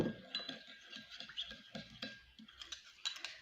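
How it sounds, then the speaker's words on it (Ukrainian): A spoon clinks and scrapes against a bowl while stirring a dressing of water and seasoning for a bean salad, a close, quiet series of irregular taps and rattles with no speech. "Я це все перемішаю."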